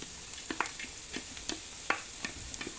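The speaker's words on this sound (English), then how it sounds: "Now the garlic goes in." Garlic cloves frying with onions in a pot for tomato basil soup, giving a soft, steady sizzle broken by scattered light crackles and pops, close and fairly quiet, with no talking.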